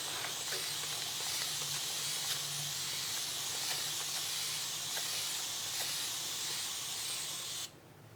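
Steam and water hiss steadily from a heating appliance used on quilting fabric, a loud continuous airy spray that holds for several seconds before cutting off sharply near the end.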